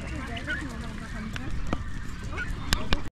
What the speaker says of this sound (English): That island on that side there has got so many birds.